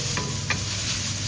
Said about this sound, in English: now we add the ginger, garlic, stir and let it cook for about 10 seconds